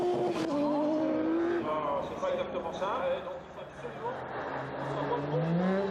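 Trophee Andros ice-racing car at Isola 2000 at night, engine revving and shifting pitch through corners, heard under continuous commentary from a race announcer.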